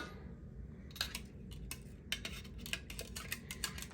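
A metal fork scrapes and clinks against a container while digging food out, sharp irregular clicks and scrapes over a low background hum, close and fairly quiet.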